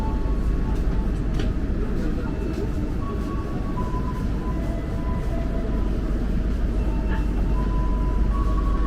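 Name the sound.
KRL commuter train shunting at Bogor station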